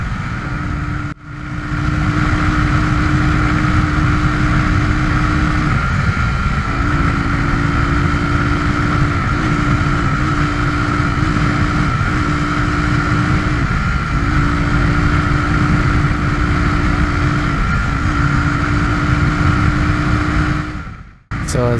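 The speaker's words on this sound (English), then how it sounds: "I was feathering the throttle right there." Suzuki DR350S motorcycle engine held at a steady, loud idle-to-mid drone with light throttle feathering, the pitch wavering slightly in short dips and rises, recorded close and alone, ending abruptly.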